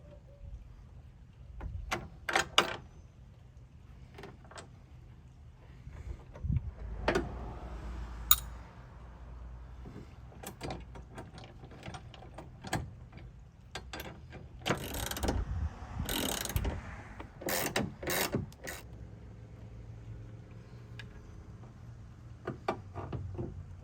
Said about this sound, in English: it is a little tricky getting a ratchet in there